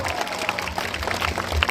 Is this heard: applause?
yes